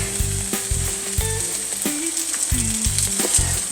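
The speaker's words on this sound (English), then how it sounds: "Now, I'm more or less sauteing this. I'm not trying to deep fry it." Chicken thighs sauté in olive oil with garlic, a steady bright sizzle running throughout with repeated low knocks and scrapes of a utensil stirring the pan, close and fairly loud with no talking.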